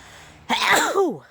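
A single sharp sneeze bursts out close to the microphone after a brief quiet moment, ending in a falling exhale.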